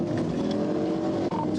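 A Chevrolet Camaro SS engine roars loud and close in a sustained, throaty drone that holds steady throughout, with one brief dip near the end.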